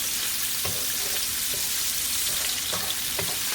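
Asparagus pan-fries in a skillet on a stovetop, giving a dense, even hiss of sizzling oil with occasional soft crackles and light pan knocks, steady and close throughout.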